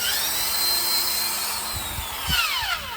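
Power drill spinning up and driving screws into wood, a continuous high whine that falls in pitch as each screw seats, with a few short low knocks near the end.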